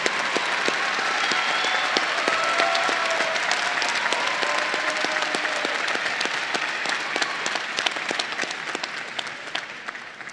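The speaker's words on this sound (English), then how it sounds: "please give a round of applause to the master's and specialist degree recipients" Sustained, dense applause from a large commencement audience for master's and specialist degree recipients, loud and steady for about ten seconds with countless overlapping claps, tapering slightly toward the end.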